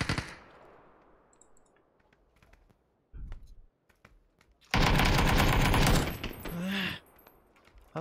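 Rapid bursts of gunfire from a video game shootout: one short volley, then a long, loud, dense stretch of automatic fire, with keyboard-like clicking before it.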